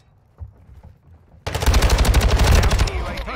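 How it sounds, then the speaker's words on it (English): Automatic rifle fire in Call of Duty Modern Warfare II bursts in suddenly after quiet game sounds, a loud, rapid, sustained string of shots close up. "You're shooting friendlies."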